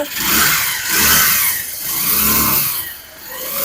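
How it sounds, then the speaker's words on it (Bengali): A 2018-model motorcycle engine revs up and down in a few surging swells, loud and close with no talking. "মাইলেজ এর কথা বা ইঞ্জিনের সাউন্ডটা শুনে দিতে পারে"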